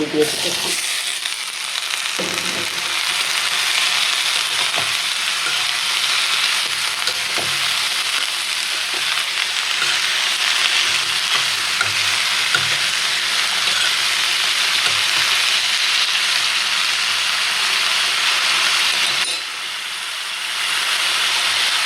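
Onions and potatoes fry with turmeric in a pan, giving a loud, continuous sizzle and hiss that stays steady for about twenty seconds, with faint scattered stirring sounds.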